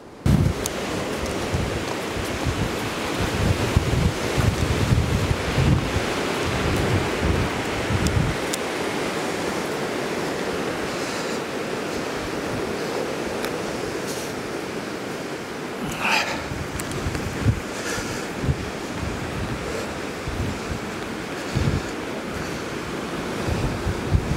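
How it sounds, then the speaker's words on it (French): Strong wind roars continuously into the microphone, gusting and buffeting with rumbling low noise throughout, no voices. "il y a un vent de fou"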